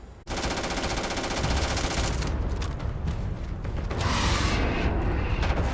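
Enemy gunfire in the game Starfield: dense, rapid automatic bursts that roar continuously and loudly for several seconds, close up and with no talk over them.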